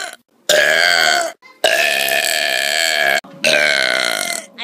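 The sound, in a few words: burping in a burp contest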